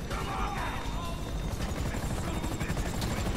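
A helicopter in the video game GTA 5 drones with a steady rotor chop under scattered game noises and brief mechanical clatter, loud and continuous, with faint voices in the mix.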